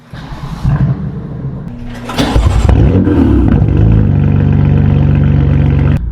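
A straight-piped BMW M4 F82 engine cranks and fires with a sharp roar, then settles into a loud, rough idle, close and unmuffled.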